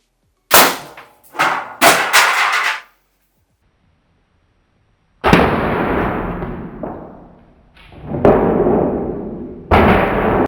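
A homemade coilgun fires a pointy projectile: several abrupt, sharp cracks and bangs, each ringing briefly before cutting off, separated by short pauses and a few seconds of near silence.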